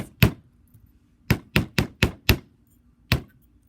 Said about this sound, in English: It has gotten flat now, so you can hammer some more if you like.